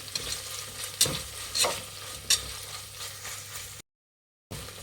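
Green chillies frying in a pan, a steady loud sizzle with a few distinct scraping stirs, then a brief silent gap before the sizzle returns.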